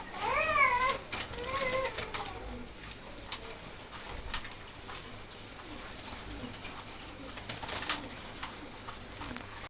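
Pigeons coo and call at a pigeon farm, several birds layered together with rising, warbling calls near the start and softer coos continuing throughout; no talking.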